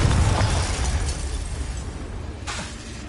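A Confringo fire-blast spell explodes in the game Hogwarts Legacy, a loud burst opening the moment and rumbling off, with a second sharper crack near the end.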